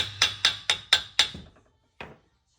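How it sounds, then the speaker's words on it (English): A hammer strikes an axle five times in a quick steady rhythm while it is driven in during removal of a front lower ball joint on an RSX Type S, followed by one last lighter blow, close and sharp. "Just kind of hammer it in."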